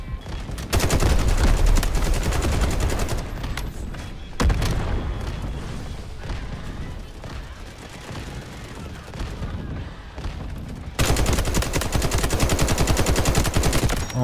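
Sustained automatic gunfire in the video game Delta Force, long loud rapid bursts that break off and resume, with quieter stretches of scattered shots and some talk underneath.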